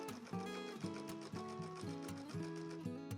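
A sewing machine stitching a quilt block seam, its motor running in a fast, even mechanical rhythm of repeating whirring pulses, close up and fairly quiet, with no speech.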